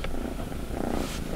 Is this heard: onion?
no